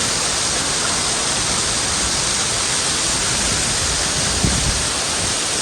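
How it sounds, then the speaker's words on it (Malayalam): Waterfall on the Annapurna Circuit trek in Nepal roars as a steady, loud, continuous broadband rush of falling water with no breaks across the whole stretch. "ഇതിപ്പോൾ 3ാമതൊരു വാട്ടർഫാളാണ്."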